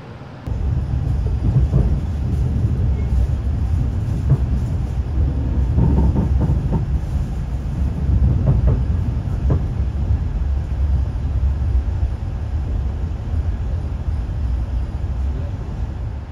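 Argo Muria passenger train in Indonesia running on rails, a steady loud low rumble with rhythmic clickety-clack wheel beats throughout.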